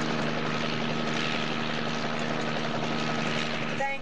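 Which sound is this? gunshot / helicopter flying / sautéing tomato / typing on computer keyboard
helicopter flying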